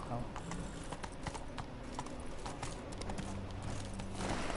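Roach the horse in The Witcher 3 trots with a steady clip-clop of hooves, low and continuous under game music and ambience, with voices speaking over it.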